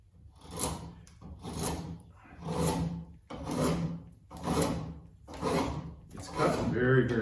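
Drawknife blade shaving across a wood workpiece, seven steady rasping pull strokes roughly one per second, close and fairly loud, with a brief voice near the end.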